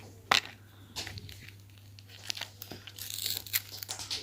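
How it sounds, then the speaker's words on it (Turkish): A child tears open toy box packaging, producing crinkling, ripping bursts of cardboard and plastic, with a sharp tear near the start and busier rustling toward the end, while a low mains hum runs underneath. "O biraz sert geldi bana ama yırt yırt."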